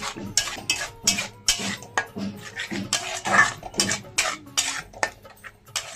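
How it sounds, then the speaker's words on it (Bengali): A spice paste seasoned with salt, a little sugar and spice-rinsing water is sautéed in a pan for egg and cauliflower curry. A spatula scrapes and clinks against the metal in a quick, steady rhythm, close and clear, with no talking. "এখন ভালো করে কষিয়ে নেব।"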